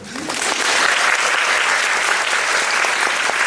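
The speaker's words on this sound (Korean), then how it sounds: "박수 한번" A theater audience at a Korean musical talk event bursts into applause, a broad even wash of clapping that swells quickly and holds for several seconds.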